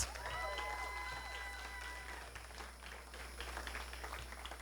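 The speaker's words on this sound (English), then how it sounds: "Give yourself a round of applause" Supporters at a South Carolina Republican primary victory night applauding, a steady wash of crowd clapping with some cheering and voices mixed in, fairly distant and continuous throughout.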